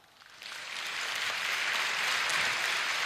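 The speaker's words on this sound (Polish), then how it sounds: "proszę Państwa, brawa." At a song festival laureates' concert, an audience starts clapping and builds over the first second into full, steady applause from a large crowd that carries on evenly to the end.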